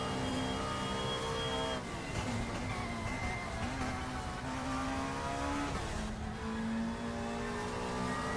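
Race car engine in the Raceroom sim racing game, revving high and climbing in pitch, then dropping with quick upshifts, a sustained loud whine with repeated gear changes and no voices.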